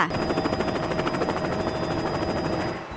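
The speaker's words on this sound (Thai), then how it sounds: "เสียงเฮลิคอปเตอร์ค่ะ" A helicopter's rotor beats in a steady, rapid thudding chop, loud and close, over a constant whine, for the whole stretch without any voices.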